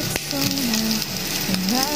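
Garlic and a little ginger sizzle in a hot pan, a continuous frying crackle with a few stirring knocks, while a faint voice and some background tones sit underneath.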